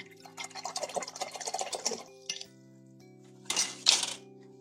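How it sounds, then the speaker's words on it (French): A paintbrush is rinsed in a water jar while painting watercolours, with close clinks and swishing splashes in two short bursts over a faint steady hum. "je rince bien mon pinceau"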